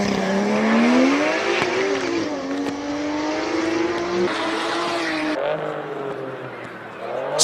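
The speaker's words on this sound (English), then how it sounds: "GT3 RS takes off." A Porsche GT3 RS race car pulls away at a Cape Town hill-climb speed event, its engine note loud and near, climbing steadily in pitch as it accelerates, with a faint voice underneath.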